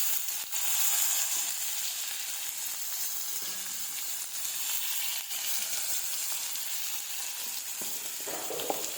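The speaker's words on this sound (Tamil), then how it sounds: "ஒரு கடாயில் எண்ணெய் 2 ஸ்பூன் ஊற்றிட்டேங்க. அதில் பெரிய வெங்காயம் நறுக்கி வச்சது அதில் போட்டேன்." Steady sizzling of chopped onions frying in oil in a pan, a constant crackling hiss with occasional faint stirring clinks.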